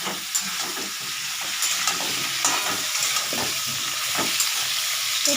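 Vegetables fry in a pan for a potato and pointed gourd rasa with prawns and sweet pumpkin, giving a steady sizzle with occasional stirring scrapes, close and alone without speech.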